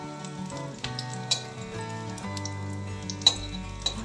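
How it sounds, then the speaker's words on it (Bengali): Bitter gourd fries in a pan with a soft, continuous sizzle and a few sharp pops and crackles, heard close under a bed of background music. "উচ্ছেটা দেখুন ভাজছি, আর একটু কড়া করে ভাজবো।"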